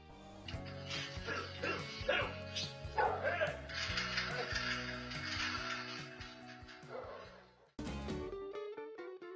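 Dog barking during an attempted robbery caught on a surveillance camera, with repeated loud, sharp barks and yips close to the mic, a brief pause, then more barking, plus some whimpering.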